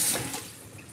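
Tap water runs in a kitchen sink as a brief, close rush of splashing water that eases slightly after the first moment, with no talking.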